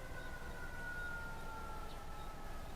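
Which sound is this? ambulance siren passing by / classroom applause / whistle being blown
ambulance siren passing by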